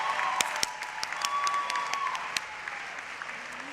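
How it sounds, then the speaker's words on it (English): Applause from the audience at a dual enrollment recognition ceremony for Middle College and Northwest High School graduates, moderate, steady clapping with a few sharper individual claps standing out over the crowd. "A round of applause for the scholars at Middle College and Northwest High School"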